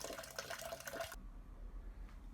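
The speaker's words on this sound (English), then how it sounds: "So we're sparging with the water at 77 degrees C." Hot water at 77 °C poured over the mash to sparge the wort during home brewing, a splashing stream that cuts off abruptly partway through, leaving a low quiet rumble.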